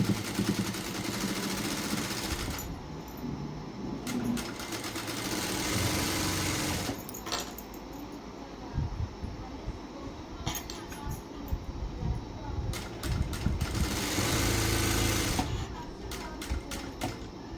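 A sewing machine runs in steady stitching bursts along a blouse edge, with short pauses between runs and faint handling clinks; no voices.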